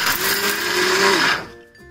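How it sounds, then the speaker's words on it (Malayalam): Mixer grinder pulsed with roasted coconut for an appam batter, a loud, close, steady whirring motor for over a second that then cuts off and winds down. "നമുക്ക് അരച്ചെടുക്കാം."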